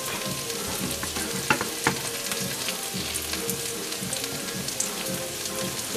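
Vegetables for rice noodles frying in a pan as oyster sauce goes in, a steady loud sizzle throughout with a few clinks of stirring, no talk.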